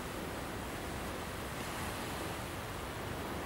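Steady, broad rushing of ocean surf at Plawangan beach, Puger, fills the clip evenly, a continuous wash of waves without distinct breaks or voices.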